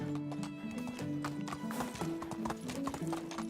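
Horse galloping in Medieval Dynasty, rapid rhythmic hoofbeats with a whinny, close and steady with a faint game tone underneath.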